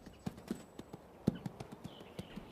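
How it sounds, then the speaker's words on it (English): A wild, never-handled 2-year-old quarter horse stud from the open range moves on a Northern California ranch, its hooves striking in an uneven series of sharp clops, close and fairly distinct. "This 2-year-old quarter horse stud, born on the open range, has never been handled."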